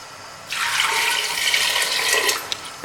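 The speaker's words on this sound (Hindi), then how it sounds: "थोड़ा सा इसमें पानी भी शामिल कर दें" Water pours steadily into a cooking pot holding onions, a bright, close hiss-like splash for about two seconds before cutting off with a small clink.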